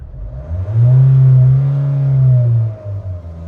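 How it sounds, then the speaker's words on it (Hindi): A Mahindra Thar 4x4 SUV engine revs up in drive mode and holds a steady, loud drone for a couple of seconds, then eases back down to a low rumble. "जैसे मैं अब ड्राइव मोड में डाल दिया और मैं एक्सेलेरेट करूँगा"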